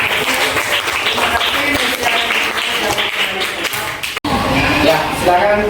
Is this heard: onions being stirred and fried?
no